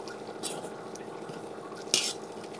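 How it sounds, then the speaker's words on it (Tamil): A spoon stirs a rice flour mixture in water in a pot, giving soft, steady scraping and swishing with a couple of brighter clinks against the vessel. "ஸோ நல்லா வந்து இப்படி கலக்கி விட்டுக்கோங்க"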